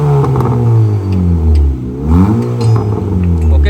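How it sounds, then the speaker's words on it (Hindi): A car engine is revved repeatedly to check the exhaust note, rising and falling in several loud, close bursts of acceleration with no talking. "अब टूडोरैल को रेसें देख के एग्जॉस्ट की आवाज़ चेक करते हैं।"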